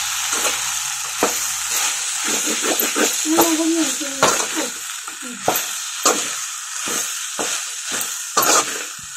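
Fried soybeans are stirred into a sizzling Manchurian sauce in a pan, with a constant hiss of frying broken by repeated scraping and clacking of the spoon against the pan while someone talks.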